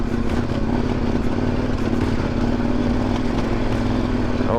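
Adventure motorcycles climb a rough, gnarly dirt hill road in the Idaho backcountry, engines droning steadily and loudly up close with a constant mechanical clatter and no letup.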